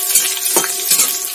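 Garlic cloves and cashews fry in a hot pan while being stirred: a loud, close sizzle with repeated scraping strokes of the spoon, and no voices.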